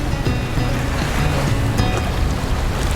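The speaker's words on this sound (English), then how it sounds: "The waves are crashing up against the port wall there. It's white froth everywhere." Waves crash against a harbor's port wall beside a kayak in loud, continuous rough surf, with rushing, surging water and wind buffeting the microphone.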